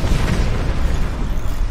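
Heavy missile explosions in the fort-building game Forts, a continuous rumbling barrage of deep booms and bursts, loud and close with no voices over it.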